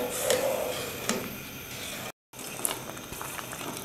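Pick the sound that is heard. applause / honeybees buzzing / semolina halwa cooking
semolina halwa cooking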